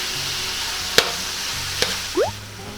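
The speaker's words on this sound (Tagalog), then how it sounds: "hihintayin lang natin na medyo maluto po yung ating" Chicken cooking in a pan for fresh lumpia gives a steady, low sizzle throughout, broken by a couple of sharp clicks and a brief rising squeak.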